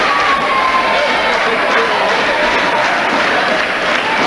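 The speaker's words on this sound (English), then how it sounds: "You can hear the crowd. They are chanting for Darren." Loud, dense crowd roar fills a wrestling match arena, steady applause and cheering with chanting under it throughout, close and unbroken.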